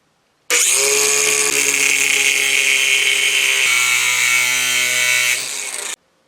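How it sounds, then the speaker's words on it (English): A metal part being cut with a power tool during an LS engine swap: one loud, steady whining cut with sustained tonal harmonics, running about five seconds close up with no talk before stopping abruptly. "Now I'm going to cut this over here."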